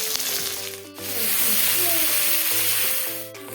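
Bay leaf, ginger-garlic paste, turmeric and chili powder sizzle loudly in hot oil in a pan, a steady close hiss swelling after a brief dip, with faint background music.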